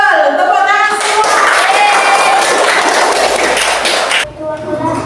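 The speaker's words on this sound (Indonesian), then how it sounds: "Tepuk tangan semua." A classroom of pupils clapping hands together in a school lesson, a loud, busy burst of clapping with voices mixed in that cuts off abruptly near the end, followed by quieter room sound.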